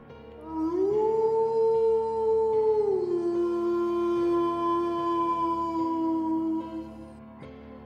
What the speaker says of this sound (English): he heard a sharp howl